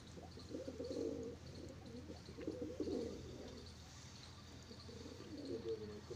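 Madrasi pigeons coo in a loft, with some pairs and young birds among them, and their low, soft murmuring runs steadily throughout at close range.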